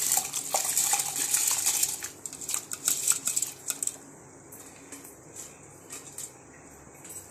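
Soaked rice tipped into a cooking pot with meat, coriander and mint makes a busy rattling clatter against metal for a few seconds, then fades to near quiet.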